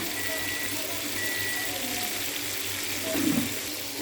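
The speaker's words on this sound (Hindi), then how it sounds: "अब मैं यखनी दोबारा देसी के अंदर डालूंगी।" Chicken yakhni broth pours steadily back into a cooking pot with a continuous watery splashing, rising briefly near the end, while someone talks over it.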